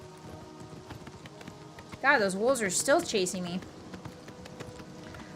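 Horse hooves clip-clop at a gallop while riding through the video game Oblivion, a quick run of steady beats in the middle of the clip, with someone talking over the top.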